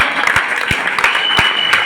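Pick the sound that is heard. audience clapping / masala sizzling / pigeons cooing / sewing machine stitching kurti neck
audience clapping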